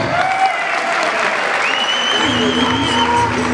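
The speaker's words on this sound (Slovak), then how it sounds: "obrovský potlesk určite si zaslúžia aj Lukáš Mandinec" Spectators applaud warmly after a boxing bout. The clapping is steady and close, and a few whistles and a shout rise above it.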